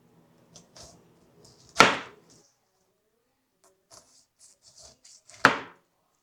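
A 7-inch hand-forged Japanese steel chef knife cuts through pineapple in two sharp, separate strokes that land several seconds apart, with faint small handling noises in between and no talking.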